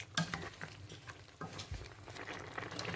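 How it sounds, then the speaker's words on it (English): Chinese rice and beef sauce being stirred in a pot, with soft scraping and patter of the spoon moving through the mixture, brief clinks against the pot, close and moderately quiet, no talk. "So right now I'm going to stir everything together. I'm going to stir it together like this."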